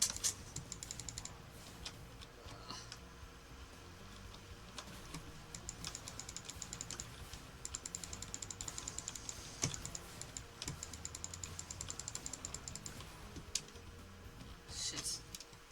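Computer keyboard keys are pressed while playing Spyro, giving a quiet, uneven patter of clicks and taps with occasional bursts of faster typing, close and alone.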